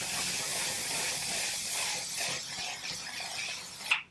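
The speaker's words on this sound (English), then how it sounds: "Now I'm going to take more of this Milk setting spray" A sustained airy hiss of a fine mist of Milk makeup setting spray lasting several seconds, steady and close, ending with a brief sharper sound.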